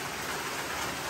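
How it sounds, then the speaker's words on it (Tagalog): Steady rain pours outside an old house in the Philippines, a dense even hiss of drops with no break, moderately loud and unaccompanied by voices. "kagaya po ngayon, umuulan na naman, no?"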